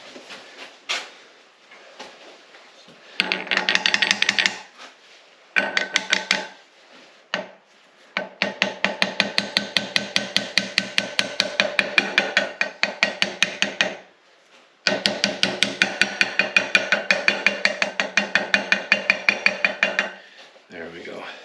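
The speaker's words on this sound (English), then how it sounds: "now I was aggressive with my little hammer" A small hammer tapping a bearing into place during a Letourneau Tournapull D gearcase rebuild: rapid, evenly spaced metallic taps in several long bursts with short pauses between, close and fairly loud.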